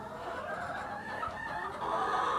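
Chickens in a backyard coop make steady low clucking and murmuring, close and continuous, with a busy farmyard wash around them and no talking.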